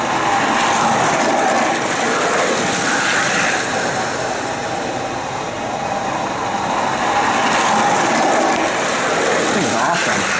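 A 1979 Lionel O-Gauge model train runs right beside the listener, its wheels and motor giving a steady, loud mechanical clatter and rattle on the track that continues for the whole stretch with no voices.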